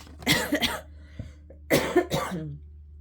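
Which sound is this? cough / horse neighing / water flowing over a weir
cough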